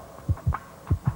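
Heartbeat pulse effect on a Russian TV quiz show, four low thumping beats in two lub-dub pairs, close and clear against a soft background hum.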